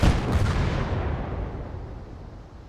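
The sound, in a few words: tank guns firing in a video game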